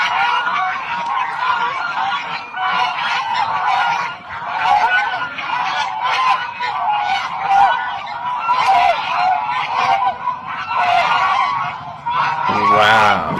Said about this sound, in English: Wow. That's that many birds? How many ducks?